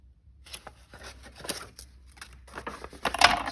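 Scissors snip and trim a repurposed paper sack, a run of light, close cutting and rustling sounds with papery crackle building toward the end, no voices.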